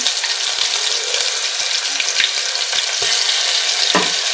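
Crushed chillies, ginger-garlic paste and ground cumin fry in hot oil, giving a loud, dense, continuous sizzle with occasional spatter and stirring knocks, close up and without speech.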